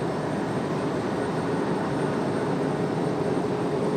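A Southwest airliner takes off from runway 5 right at Raleigh-Durham International, a loud, continuous broadband jet roar that holds steady throughout.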